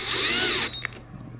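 A brief high-pitched whir of a power drill driving screws on a Wyze robot vacuum, running about half a second before winding down, followed by a small click; no speech.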